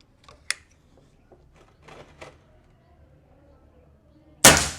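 A single sharp crack from a Bocap Guardian Xtra Plenum PCP air rifle sounds loud and close near the end, after a stretch of quiet with faint background ticks.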